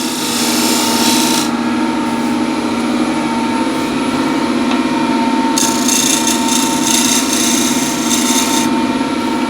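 A round nose scraper works the inside of a turned wooden piece on a spinning lathe, giving a loud, close, continuous whir with bursts of brighter scraping hiss as the tool cuts.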